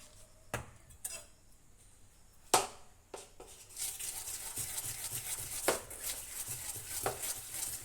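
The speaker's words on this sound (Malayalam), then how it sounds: "ഇനി നല്ലപോലെ നമ്മൾ ഇളക്കി യോജിപ്പിക്കുകയാണ്" A spoon stirs a sambar mixture in a cooking pot, giving sharp metallic clinks against the rim at irregular intervals, then a steady scraping, rubbing swirl with occasional knocks, close by and fairly quiet.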